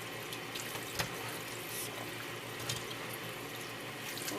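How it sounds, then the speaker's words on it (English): Onions for dehydrating are rinsed and cooled under a running kitchen tap, a steady moderate rush of water into the sink with a couple of soft splashes and knocks. "I just wash them off and cool them off so they stop cooking"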